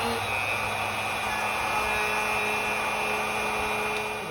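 A wood router set to about speed 4 lightly grazes MDF while building a radiator cover, giving a steady, loud, continuous high whine with a constant tonal hum throughout and no talking.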